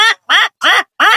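A human voice imitates a duck's quack in four short, loud, nasal bursts with even gaps, close up and alone.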